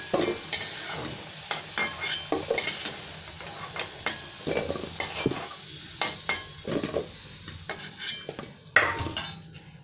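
Fried potatoes are lifted out of hot oil in a pan while cooking Bengali-style prawns: scattered metal utensil clinks and scrapes against the pan over a soft, quiet sizzle, with short pauses between the clatter.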